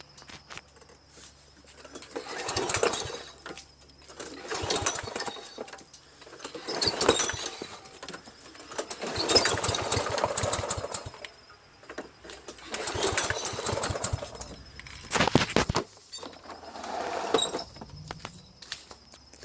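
A Toro SR4 lawnmower with a Loncin auto-choke engine being pull-started repeatedly without success: six rhythmic bursts of rough cranking and brief sputter, each about two seconds long, separated by short quiet pauses.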